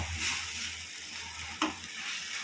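Tomato gravy with turmeric sizzles and fries steadily in a pan, with a brief scrape of a spoon stirring partway through.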